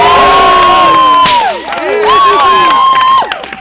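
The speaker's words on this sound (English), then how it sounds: "results in a crowd screaming and applauding wildly" A crowd screams and cheers loudly at a whip show during a wedding, shrill whoops and shouts rising and overlapping across the whole stretch, with voices yelling close and wild throughout.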